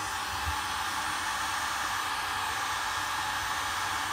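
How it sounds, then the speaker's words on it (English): A heat gun set to low power blows a steady, close, even rush of hot air while a light plastic pipe is warmed, a continuous fan-like hiss with no talking. "twisting it as much as you can over the heat gun"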